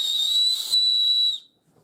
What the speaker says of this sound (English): the lanyard here has a whistle